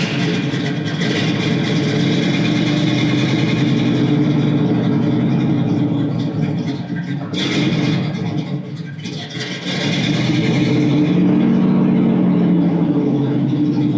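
A cold 1968 Pontiac Firebird engine idles low and rough, a loud, dense rumble that dips briefly midway and then swells again, heard from close by with no talk over it.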